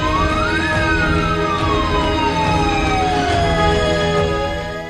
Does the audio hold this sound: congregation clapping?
no